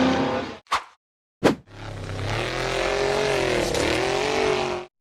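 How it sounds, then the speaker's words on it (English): White off-road vehicle number 121 roars hard up a steep sandy slope, its engine revving loud and close after two short sharp bursts, then a sustained straining climb that rises and dips before cutting off. "The white off-road vehicle number 121 accelerated hard up a steep, sandy slope"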